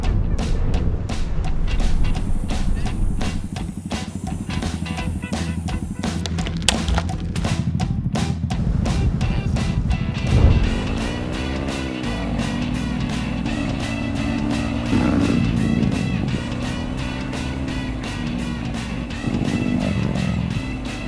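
Yamaha XSR155 motorcycles ridden off-road on a backdoor trail toward Mount Ugo, a continuous close engine drone with shifting revs, gear changes and occasional thumps from the rough ground.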